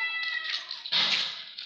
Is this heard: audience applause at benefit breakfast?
no